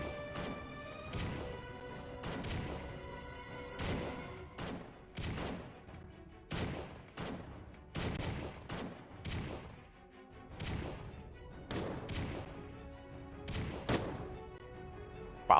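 Repeated sharp gunshots from a weapon in Strike Force Heroes 3 crack out in irregular bursts, loud and close, each with a quick decaying tail, with no talking.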